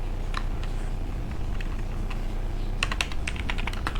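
Rapid, uneven keystrokes on a computer keyboard, close and fairly steady, with a denser burst of typing toward the end while HTML code is typed; no talking.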